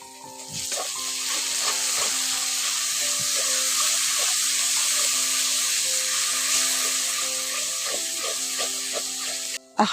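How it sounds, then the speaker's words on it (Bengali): Tomato paste sizzling and frying with spices in a pan for a pointed gourd (potol) dish, a steady close hiss broken by repeated scraping stirs throughout, with no talking. "এবার এর মধ্যে দিয়ে দিচ্ছি টমেটোর বাটা টমেটোর বাটাটা ওর সঙ্গে দিয়ে একটু ভালো করে কষে নেবো"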